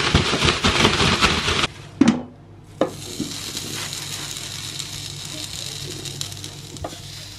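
Potatoes tossed with a little oil and salt in a bag sizzle on a hot grill. A dense hiss fills the first seconds, then a few sharp clinks and knocks sound over a steady, softer frying crackle.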